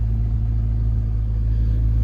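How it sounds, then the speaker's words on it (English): A Ford L9000 dump truck engine idles with a steady, deep rumble, loud and close, holding an even low drone throughout without revving. "Let's go back there and get the dump truck running."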